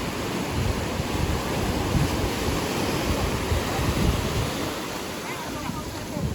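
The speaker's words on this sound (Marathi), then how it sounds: "लाटांचा आवाज खूपच आहे आणि लाटा बघा एवढ्या मोठ्या मोठ्या" Ocean waves crash and roll continuously onto a beach in Goa, a loud, steady surf roar with wind noise and no clear pauses.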